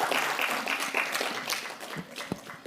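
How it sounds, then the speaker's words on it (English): Audience applause for panelists on stage at a sustainable-investment finance conference, a short burst of scattered clapping at moderate level that thins out toward the end. "Please give them a round of applause."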